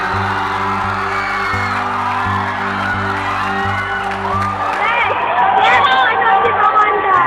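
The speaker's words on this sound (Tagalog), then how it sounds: "Halos hindi na magkarinigan sa hiyawan." Crowd screaming, whooping and cheering around a kneeling marriage proposal, a dense continuous roar that swells louder toward the end, with music and voices mixed beneath it.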